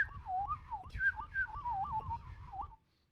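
A person whistles a warbling, looping phrase imitating a magpie's call, several rising and falling swoops close up before stopping abruptly.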